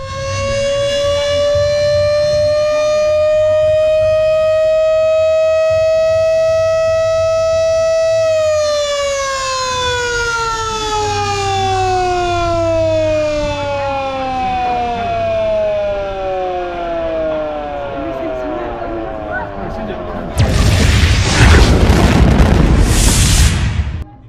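A loud wailing siren holds a steady tone, then sweeps downward in pitch, before a burst of harsh broadband noise near the end.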